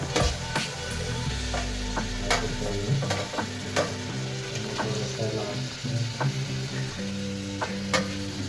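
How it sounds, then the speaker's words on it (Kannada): Chopped onion and green chilli fry in oil in a pan as tomato goes in, a steady close sizzle broken by repeated clacks and scrapes of a spatula stirring, with no talking. "ಈಗ ಈರುಳ್ಳಿ, ಮೆಣಸಿನ್ಕಾಯಿ ಎಲ್ಲ ಚೆನ್ನಾಗಿ ಫ್ರೈ ಆಗಿದೆ"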